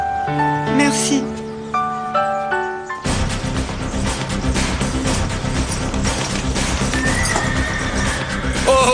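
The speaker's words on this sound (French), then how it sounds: "Cheval nerveux ou mauvais cavalier?" A nervous horse neighs loudly in a drama scene, a shrill whinny over quiet music, then hooves and rustling commotion take over in a busy, continuous clatter.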